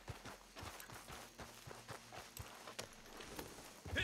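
Horse hooves in Red Dead Redemption 2 as the rider heads into a tunnel: a steady, rhythmic clip-clop of footfalls, fairly faint, with a low engine-like hum beneath.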